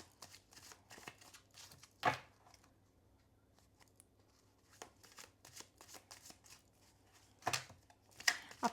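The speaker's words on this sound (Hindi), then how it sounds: "I am going to shuffle cards" Tarot cards are shuffled by hand in soft, rapid riffles and slides, close and quiet, with a few louder flicks and taps as the deck is handled.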